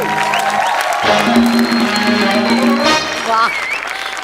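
An audience at an award ceremony breaks into loud applause, with clapping that swells and fades while a tonal voice or music sounds over the top.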